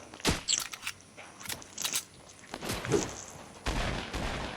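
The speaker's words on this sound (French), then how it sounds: "Écoutez-moi, tous ces bruits de pompe." Pump shotgun fire in the Fortnite battle royale video game, a run of sharp, loud broadband blasts at irregular intervals with overlapping distant gunfire, ending in a sustained noisy burst.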